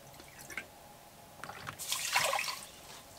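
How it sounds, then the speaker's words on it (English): Water trickling and splashing into a cooking pot for quinoa at a van campsite by a mountain lake, a faint dribble that swells into a brighter, louder pour before easing off. "Gonna put a little bit more than a cup of water, just because it's probably gonna boil a lot."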